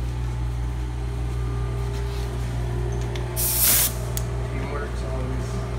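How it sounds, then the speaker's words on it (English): Pneumatic impact wrench and air hose removing a tire from a truck in a diesel tech class: one loud, sharp burst of compressed-air hiss midway through, set over a steady low engine or compressor hum, with a voice speaking briefly. "he's gonna grab the hose, grab the impact right there, and start taking the tire off."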